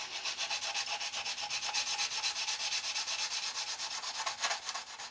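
Rhythmic abrasive buffing on a plastic part of a Trumpeter 1/32 Swordfish model kit, done with a coarse pad near photo-etch detail; steady, close back-and-forth rubbing strokes continue throughout, alone without talk.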